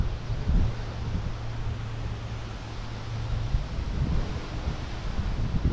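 Strong, chilly wind buffets the microphone outdoors during a strong wind warning, a steady rumbling roar with gusts swelling louder toward the end and no voices.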